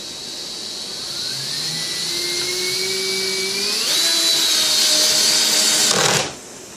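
A power drill drives screws straight in while pop-in casters are being installed on a subwoofer. One loud, close whine rises in pitch as the motor speeds up, holds steady, then cuts off near the end.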